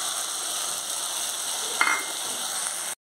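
Green jackfruit sizzles and fries steadily in a pan as poppy seed paste goes in, with a brief stir or clink near the middle, then the sound cuts off abruptly.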